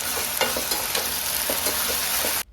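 Ground masala paste being stirred into chicken frying for pepper chicken, with steady loud sizzling and repeated scraping stirs in the pan, no voices.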